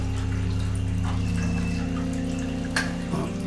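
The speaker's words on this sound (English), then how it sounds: "Now I'm filling up the tank with the fresh water." Steady running water as fresh water fills an aquarium tank, with a constant low hum from a Seachem Tidal 110 hang-on-back filter, continuous and fairly close, with a faint clink near the end.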